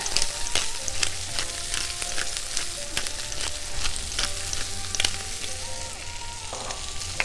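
Bacon and salted food sizzle and fry steadily in a hot pan, a close, continuous crackle with scattered sharp pops throughout and no talking.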